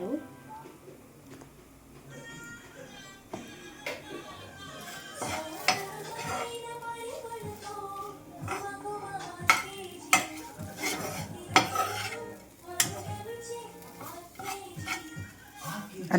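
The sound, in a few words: stirring a powder mixture in a pan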